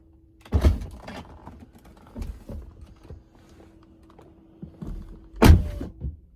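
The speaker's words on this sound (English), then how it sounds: "Here's a little sound test on opening and closing the door." Door of a Tesla Model 3 Performance being opened and shut, a solid thunk early on, quieter latch clicks and handling in between, then a second firm close near the end, heard alone and close.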